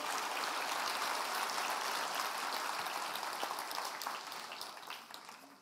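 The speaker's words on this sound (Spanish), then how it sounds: "el un aplauso al Rey bendito." Church congregation applauding during a Sunday service, a dense crackling roar of many hands that holds steady, then thins and fades toward the end, no speech over it.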